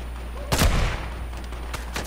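Sniper rifle fire in Fortnite: a sharp, loud shot cracks out and decays with a short echo, followed by two fainter, quicker shots, over a low steady background hum.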